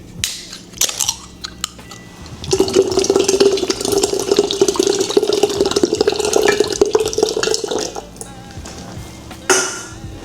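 Coconut water pours steadily into a thick homemade juice for several seconds, a close, continuous liquid splash with light clinks of glass or utensils before and after.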